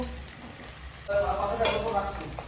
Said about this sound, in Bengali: এখন বড়ি ভাজা হচ্ছে